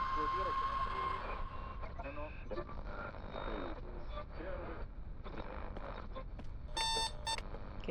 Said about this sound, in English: that's the alarm clock